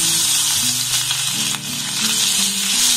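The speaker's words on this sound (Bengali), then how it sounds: "এবার মাছগুলোকে আমি তেলের মধ্যে দিয়ে খুব ভালোভাবে ভেজে নেব।" Hilsa fish pieces frying in well-heated oil give a loud, steady sizzle with a dense crackling hiss, close by and continuous throughout, with no talking.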